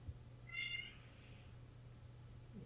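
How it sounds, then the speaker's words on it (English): A cat gives one short, faint meow in the background of a quiet room. A low steady hum runs under it, with no talking. "No, I can hear a cat."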